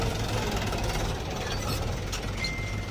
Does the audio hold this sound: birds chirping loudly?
no